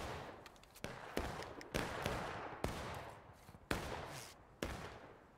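Gunfire sounds as a series of sharp, separated shots, about seven loud cracks at irregular intervals, each trailing into a rumbling echo, with some fainter pops between them.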